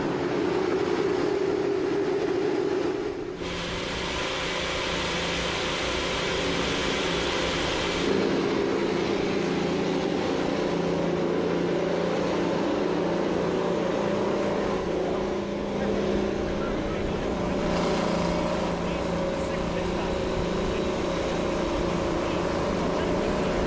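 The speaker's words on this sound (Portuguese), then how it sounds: "enquanto os motores são ligados" IndyCar race cars firing up on the starting grid at Pocono, a dense, steady roar of many engines holding loud and continuous throughout, with the tone shifting slightly as revs change.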